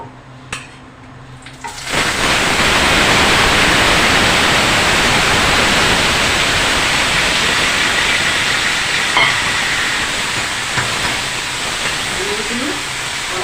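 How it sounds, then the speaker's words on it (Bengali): Boiled lemons fry lightly in mustard oil in a wok, a loud, steady, close sizzle that starts abruptly after a brief quieter opening and holds evenly to the end. "এই লেবুটা এবার আমি কড়াইতে একটু হালকা করে ভেজে নিলাম"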